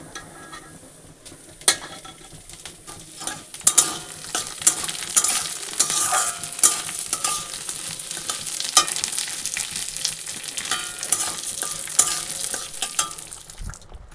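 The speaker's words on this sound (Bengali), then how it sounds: "এই যে ডালটা একটু ভাজা হলেই এই সবজিটা দিয়ে দিব" Steady sizzling of mung lentils frying in a pan, with scraping spoon strokes stirring at irregular intervals, close and moderately loud throughout.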